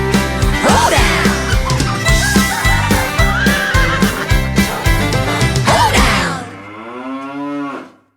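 Music from a children's farm song, with rhythmic instrumental backing and animal-like calls. A sustained lowing call and then a long wavering cry close the song as the music cuts out.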